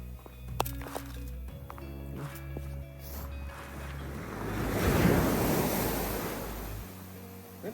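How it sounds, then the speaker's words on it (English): Ocean waves crash onto a snowy Canadian shore during a snow storm, a rushing surge swelling to a loud peak midway and then receding, with wind buffeting the microphone and a few footsteps nearby. "A few nice waves crashing in."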